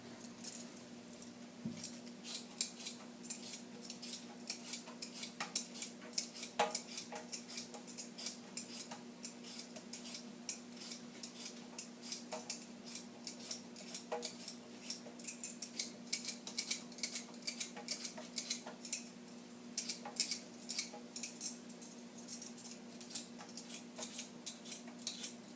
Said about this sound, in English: Now we're going to peel our potatoes.